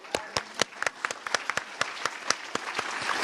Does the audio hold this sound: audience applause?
yes